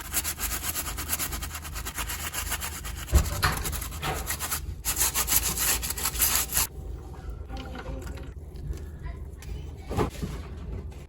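Rubbing and scrubbing of disassembled Nintendo 64 Donkey Kong 64 banana controller parts, a steady rasping friction continuing close by with a few sharper knocks.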